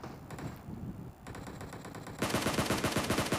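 Rapid automatic gunfire in a PUBG Mobile fight, bursts of quick repeating shots that grow louder and denser toward the end, with no talk.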